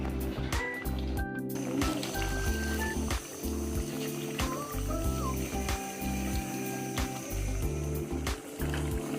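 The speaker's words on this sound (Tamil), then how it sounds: "நண்டு கிரேவி நல்லா கொதிச்சு வெந்துட்டுருக்கு." Crab gravy simmers in a covered pot, with steady bubbling and gurgling close up beneath a low continuous rumble.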